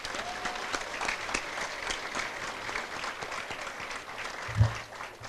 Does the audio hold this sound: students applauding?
yes